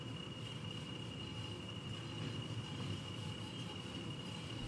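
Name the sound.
locomotive running light engine downhill in train simulator game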